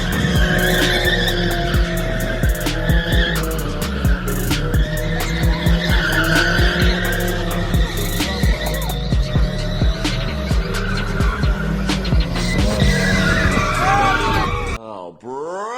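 Car tires skid and squeal through street donuts at a car show in Alameda, a loud, sustained screeching over a roaring engine that rises and falls, with people yelling nearby before the noise drops off at the end.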